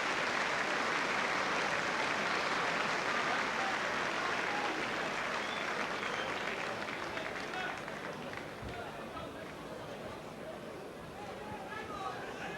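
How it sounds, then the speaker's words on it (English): A rugby crowd at a Leeds versus Oldham match applauds an injured player being carried off. The clapping is broad and sustained, then eases gradually in the second half. "David Young carried off, disappointed, and getting a good round of applause from the liners."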